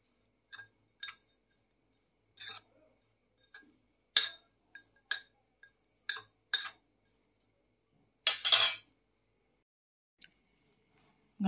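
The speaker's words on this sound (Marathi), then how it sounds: "आता हे सर्व चमच्यानं मिक्स करून घेऊया" A spoon mixes panchakhadya ingredients in a bowl, giving sparse, separate clinks and scrapes with quiet gaps between them.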